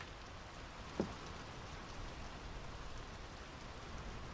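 Rain in the Draugen video game, a steady soft hiss of falling drops with one brief louder tap near the start, no voices.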